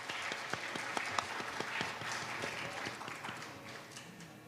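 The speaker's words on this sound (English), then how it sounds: "Can we have another round of applause?" Audience applause after a Bharatanatyam dance recital, steady rapid clapping from a sizable crowd with distinct individual claps popping out, fairly distant and soft, tapering slightly toward the end.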